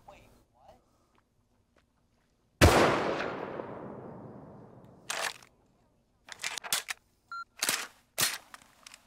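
A single loud shot rings out in the video game Rust, followed by a long decaying echo, then a few sharper, shorter cracks and clicks spaced out in otherwise quiet surroundings.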